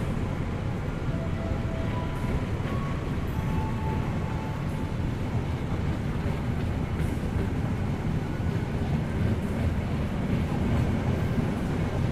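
An Indonesian passenger train pulls away again right after a brief station stop, a loud continuous rumble of wheels and carriages with faint rhythmic clatter, steady throughout with no talking.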